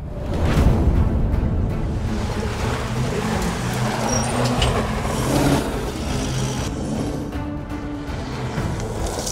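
Toyota Land Cruiser 300 driving on the road, a steady broadband engine and road rumble with tyre roar, continuous and fairly loud throughout, with no voices.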